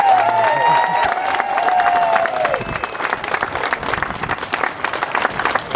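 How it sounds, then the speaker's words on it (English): A rally crowd at CFB Petawawa on Wear Red Friday applauds steadily with scattered cheers and whoops, loud and sustained, while a brief tonal whistle or feedback rises over the clapping early on. "Karen and Lisa, let's hear it for them."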